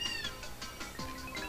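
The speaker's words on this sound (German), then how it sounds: "Das war eine Katze." A cat in Super Paper Mario gives a few short, clear meows in quick succession over quiet game background sound, with no one talking.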